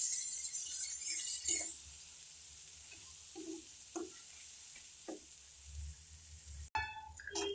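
Onion, ginger and garlic frying with spices for a potato curry: a soft, fairly quiet sizzle that fades after the start, broken by scattered stirring scrapes and a brief clink of utensils near the end.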